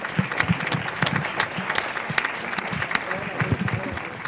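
Audience applause at the opening of a national Cervantes congress, a moderate burst of many hands clapping in a hall with some voices mixed in, rising and holding briefly.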